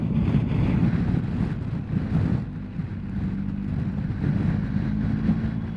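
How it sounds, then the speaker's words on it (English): Wind buffets the microphone on a hilltop above a Welsh reservoir, a steady, loud, low roar with gusty swells and no voices. "As usual, it's windy up here. It's always windy up here."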